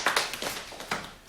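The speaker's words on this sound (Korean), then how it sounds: "박수해 주시기 바랍니다" A church congregation at a Sunday morning worship service claps briefly; soft, scattered applause from a room of people, quiet and uneven, fading within about a second.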